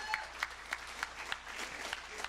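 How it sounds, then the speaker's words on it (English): Audience applause at a live comedy show, a thin, fairly distant patter of scattered claps with a few sharper individual claps standing out, steady across the moment without talk over it. "Big hands for you guys."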